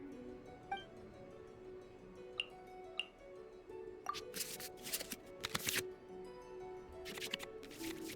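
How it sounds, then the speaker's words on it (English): Cards in the Genshin Impact card game are shuffled back into the draw pile, with quick crisp flicks and a few faint ticks first, then louder bursts of rapid riffling against a quiet background hum. "we can select any number of cards in our hand to shuffle back into the draw pile"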